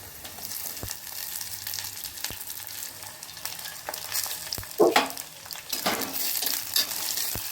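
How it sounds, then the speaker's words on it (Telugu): Onions frying in a pan as a steady soft sizzle, with a few scraping stirs and clinks of a spoon against the pan, close and alone without talking. "ఇప్పుడైతే ఉల్లిగడ్డలు వేసేసుకుందాము."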